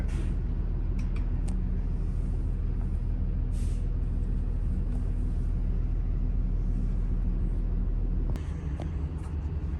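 A truck with slide-outs idles and eases forward, its engine a steady, close, low rumble throughout, with a sharp air-brake hiss and a drop in the rumble near the end.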